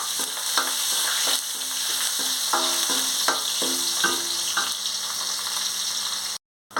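Chopped onion sizzles steadily in hot oil in a pan, heard close up, while a spoon scrapes and taps against the pan again and again. There is no talk, and the clip ends with a brief drop to silence.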